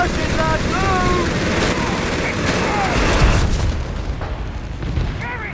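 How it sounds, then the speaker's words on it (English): Artillery barrage in the video game Company of Heroes 3, heavy booming explosions and scattered gunfire rumbling loud and continuous, with clipped radio-style voice lines over the battle. "Enemy barrage. Right on top of us."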